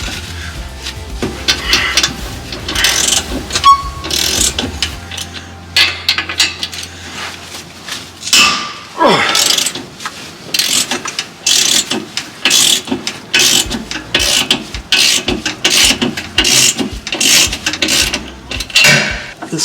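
A wrench ratchets nuts loose from a camper spring plate during a Timbren spring install, close, rapid ratcheting clicks in repeated bursts with occasional clanks of metal, no one talking.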